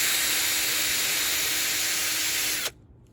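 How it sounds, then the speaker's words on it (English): A sanding disc from a head restoration kit grinds and hisses steadily against the bottom of a 3.7-litre Dodge Nitro EGR valve, loud and close, then cuts off abruptly near the end. "I'm gonna take that sanding disc from the actual head restoration kit, one of these ones, and clean up the bottom"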